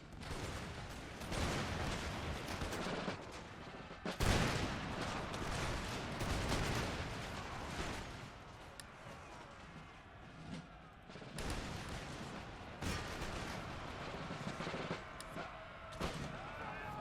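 Cannon and musket fire in the Empire Total War video game, dense rolling volleys and booms crackling almost nonstop, loud and continuous.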